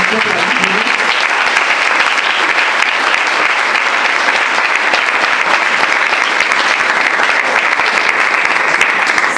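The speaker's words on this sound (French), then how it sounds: "nous avons demandé pour capable applaudir très chaudement" Church congregation at a thirtieth anniversary service applauding warmly for a certificate recipient, a loud, sustained, even roar of many clapping hands that fills the whole stretch without letting up.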